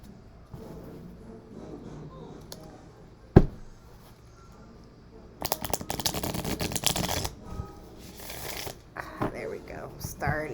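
A brand-new deck of tarot cards being shuffled by hand, quiet riffles and handling at first, then a sharp snap, followed by bursts of dense, crisp flapping riffles; a voice talks softly over parts of it.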